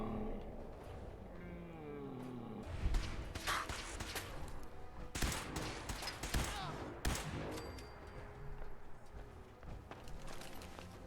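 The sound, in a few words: gunfire in Fallout 4 video game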